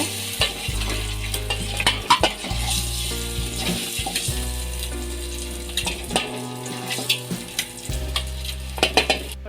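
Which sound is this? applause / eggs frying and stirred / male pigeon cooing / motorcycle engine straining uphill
eggs frying and stirred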